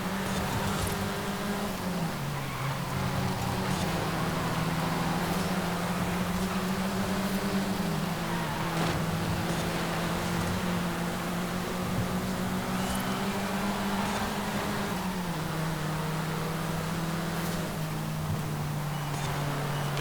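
A Toyota MR2 GT engine in Forza Horizon 5 drones loudly and steadily as the car accelerates, its pitch climbing and then dropping at several gear changes, with wind rush over a continuous roar.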